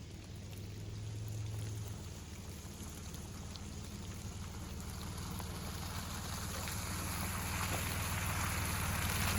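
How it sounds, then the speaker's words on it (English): Steady rain drums on a van parked in a forest, a dense continuous patter with a low rumble underneath, no voices, fairly quiet and unchanging throughout. "the rain's letting up now"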